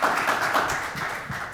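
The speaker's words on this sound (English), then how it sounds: "If you guys can give them a round of applause." Audience applause for the panelists at a senior living Medicaid session, a steady patter of clapping hands across the room, moderately loud and continuous, with no voices over it.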